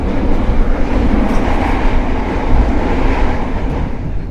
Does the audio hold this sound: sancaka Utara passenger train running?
yes